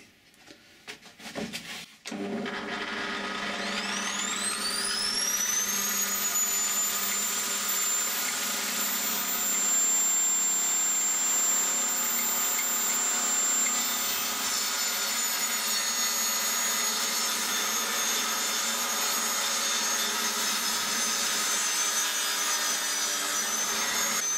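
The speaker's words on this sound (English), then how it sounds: "I'm just going to use the table saw to cut this last piece down to width." A table saw spins up with a rising whine and then holds a loud, steady high-pitched drone as it rips a piece of wood down to width. A few knocks of handling come before the start-up, and no one speaks.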